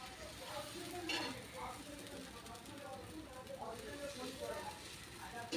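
Batter is poured onto a hot pan and swirled thin like a dosa, producing a steady, close hiss of sizzling that runs throughout, with a faint voice now and then.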